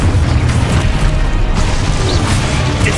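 A spell detonating in the game Hogwarts Legacy, a dense, loud, sustained crashing boom with rumbling low-end debris noise filling the whole moment, no voices over it.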